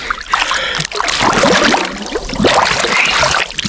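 People bathing in a village pond churn the water into steady, close splashing and sloshing that carries on throughout, with no voices.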